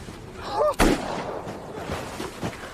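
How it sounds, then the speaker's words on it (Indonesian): A single gunshot from a film lands as a sharp, heavy boom. Rumbling reverberation follows and fades beneath other scene sounds. "Ash sempat menembak Darby tapi tak mengenainya."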